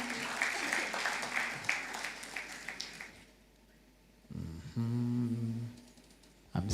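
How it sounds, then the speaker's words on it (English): Crowd at a product launch event on stage in Uganda applauding for a few seconds, the clapping thinning and fading, followed by quieter moments and some tonal sounds. "let's give these people a round of applause"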